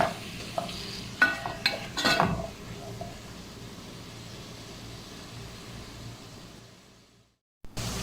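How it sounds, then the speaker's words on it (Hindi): Onions frying in a pan for an okra dish, a soft, low sizzle with a few sharp clinks and scrapes of a utensil early on, fading quieter before a brief silence and a return of faint sizzling. "प्याज हमारे तकरीबन सॉफ्ट हो चुके हैं। इससे ज़्यादा इसको मज़ीद कुक नहीं करेंगे।"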